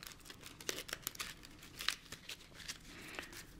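A deck of game cards for a stock market board game is shuffled up close, giving soft, quick papery riffles and flicks in an irregular rhythm, quiet and without talking.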